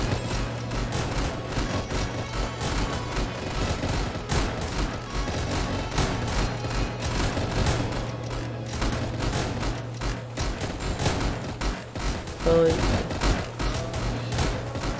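Bursts of rapid gunfire from a Roblox shooting game rattle on and off through the whole stretch, fairly loud and dense, with a person talking over parts of it.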